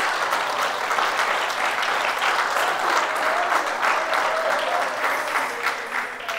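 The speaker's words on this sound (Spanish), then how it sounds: "Un fuerte aplauso a Él." A church congregation breaks into sustained, loud applause during a sermon, a dense wash of clapping from many hands that holds steady throughout and thins slightly at the end.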